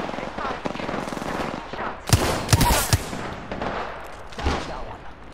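Gunfire in Apex Legends: rapid automatic bursts rattle through the scene, with several sharp, loud cracks standing out near the middle and another cluster toward the end, and no talk.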